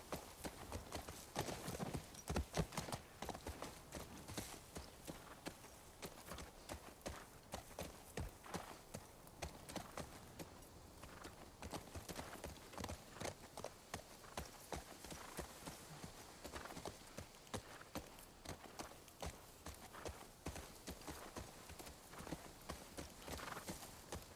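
Horse hooves clip-clop in a steady trotting rhythm while riding in The Last of Us Part II, quiet but continuous throughout, with occasional talk between riders.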